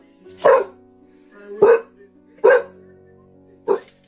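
A dog barks four times at uneven intervals, sharp and fairly close, each bark short and clear against a quiet background.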